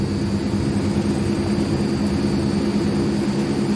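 Heavy turboprop roar of a C160 Transall applying reverse thrust and full braking after touchdown in a flight simulator game, a loud, steady low engine drone with broadband rush, continuous and unbroken with no talk.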